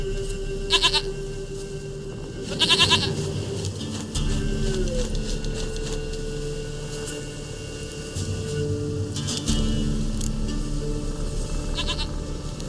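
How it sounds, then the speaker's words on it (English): A goat bleats in The Witcher 3: Wild Hunt, several short wavering cries spaced apart over a steady low game ambience, close and clear with no talking. "Goat of mine, dearest,"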